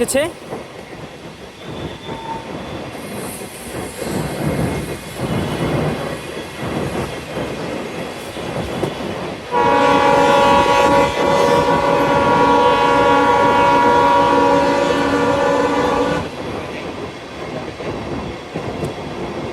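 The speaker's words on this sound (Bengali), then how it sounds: "মিঠাটেল স্পেশাল ট্রেনটি এখন সায়দাবাদ রেলগেট চলে" A special cattle train rumbles past up close at the Saidabad railway gate in Bangladesh, its loud steady rolling and rattling swelling midway and easing near the end, with faint voices in the background.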